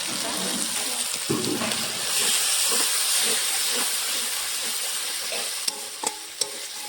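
Ground tomato goes into sizzling ginger, green chili and cumin paste, making a steady hiss of frying under faint background voices, with a few sharp clinks of a spoon near the end.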